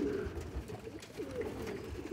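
Pigeons coo in a loft, a steady low murmur of soft calls running throughout, close and moderately quiet with no talking over it.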